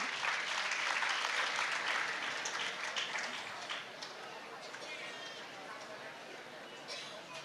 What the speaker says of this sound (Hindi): ताली बज रही